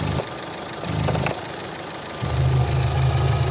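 Petrol 1.8 MPI engine of a 2010 Opel Zafira facelift idling, a steady low rumble with slight rises and dips in level, close and loud with no talk.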